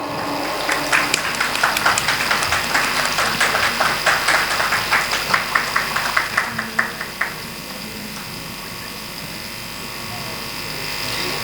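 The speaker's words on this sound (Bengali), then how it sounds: "জোরে হাততালি হোক" Applause at the Kalamkar Award 2024 poetry award ceremony: a run of scattered, fairly even claps from a small audience lasts about seven seconds over a steady background hum, then fades out.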